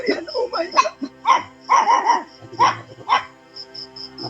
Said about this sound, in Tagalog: Marami palang aso dito si Lolo, tol.